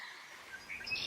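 Small birds chirp with flowing water behind them in a relaxing fountain setting, a few high tweets over a soft watery hiss, quiet and brief.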